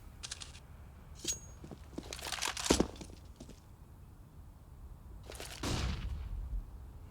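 Gunfire in Counter-Strike on the Overpass map during a pro match, with a few sharp shots landing among scattered bursts, some close and loud, others fainter, over a low game-ambience bed.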